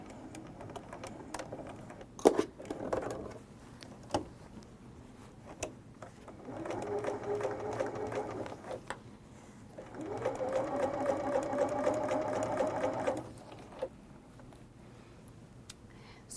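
A sewing machine stitches a half apron in two sustained bursts of rapid mechanical whirring, separated by short pauses with scattered clicks and handling noises.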